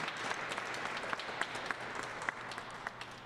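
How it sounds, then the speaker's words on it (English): Applause for volunteers from an audience at a Black History Month event, quiet and somewhat distant, with individual claps popping out of a steady patter. "So a big round of applause to all the volunteers in the room."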